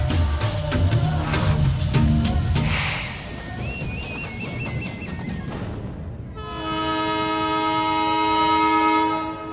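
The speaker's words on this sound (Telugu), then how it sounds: "అయ్యో, ట్రైన్ కదిలిపోతుంది" At a railway station a passenger train pulls away with a loud rumbling, clattering roll of wheels and cars, then sounds a long, steady horn blast close by.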